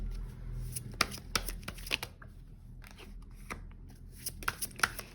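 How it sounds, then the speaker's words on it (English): Cards riffle and slap down in quick, crisp bursts close by, with short shuffling runs and single cards being pulled and laid down, fairly quiet with no talk. "let me just grab a few more cards"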